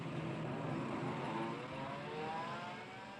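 A taxi pulls away with its engine droning steadily and fairly loud, the pitch slowly rising as it accelerates off and fades slightly at the end; no one speaks.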